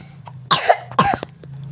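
A character in the game Toca Life World coughs twice in quick succession, a short, close, fairly loud cartoonish cough against a low steady background hum.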